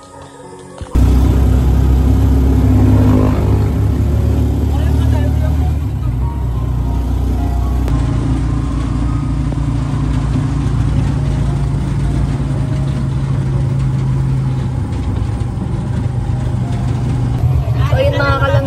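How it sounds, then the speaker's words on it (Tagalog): Heavy road traffic with car and vehicle engines idling and rumbling nearby, a continuous low drone through the whole stretch, with faint voices now and then. "Grabe po ang traffic."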